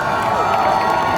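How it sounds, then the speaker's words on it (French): Festival crowd at a Japanese culture event in Tours cheering and clapping loudly in a dense, continuous wash of voices and hands, with a few brief shouts rising above the roar. "On l'applaudit encore Jean-Paul, un peu plus fort s'il vous plaît."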